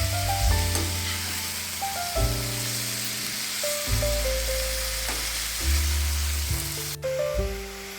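Paneer pieces fry in a pan, a close steady sizzle with stirring scrapes and shifting tones, sustained throughout without talk.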